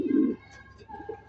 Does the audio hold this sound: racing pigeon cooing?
yes